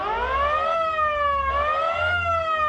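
A boat's siren wails steadily in rising and falling sweeps, loud and close, sounding much like a police or fire boat siren, with no talking over it.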